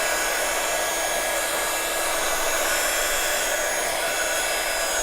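Heat tool drying ink on a stamped floral craft panel gives a constant, close blowing whoosh with a faint whine, steady and uninterrupted throughout.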